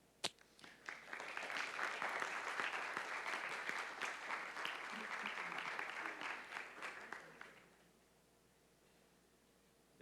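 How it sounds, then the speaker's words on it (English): Long sustained applause from a lecture audience, a dense steady wash of clapping that holds for several seconds and then fades out. "It was a long applause."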